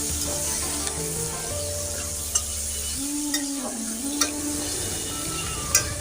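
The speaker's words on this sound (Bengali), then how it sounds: "চলো টমেটোটা একটু নরম করে নিই।" Tomatoes with salt soften in a hot pan with a steady hiss and sizzle, broken by a few soft stirring clicks close by, and no voices.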